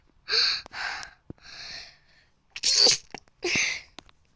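A few short breathy bursts sound up close in a Roblox Brookhaven game, with a sharper sneeze-like burst near the middle and soft gasps or snorts around it. No one speaks.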